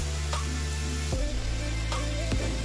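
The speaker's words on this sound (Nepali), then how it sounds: "बिस्तार बिस्तार आलु चाहिँ फ्राई हुँदैछ" Potatoes fry in oil in a pan for fried rice, giving a steady close sizzle with a couple of stirring scrapes against the pan.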